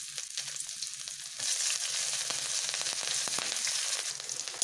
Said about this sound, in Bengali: চিকেনগুলো ভাজার তেলেই আমি এখন একটু আদা ও রসুন ফোড়ন দিচ্ছি।